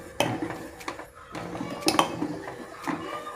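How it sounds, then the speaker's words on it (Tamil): Raw rice flour batter stirred in a pot, giving several sharp metallic clinks and scrapes of the spoon against the pot at an uneven rhythm, close by and without speech. "இந்த பச்சரிசி மாவு ஊற்றும்போது கைவிடாமல் கிண்டிகிட்டே வரணும்"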